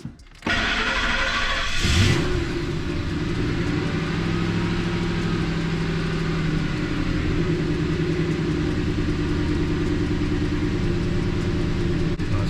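A 2003 Ford F-150 cranks briefly and fires up, its engine settling into a steady, even idle that runs loud and close for the rest of the stretch, with no talking.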